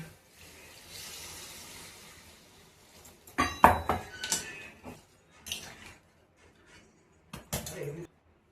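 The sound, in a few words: pot being covered with a lid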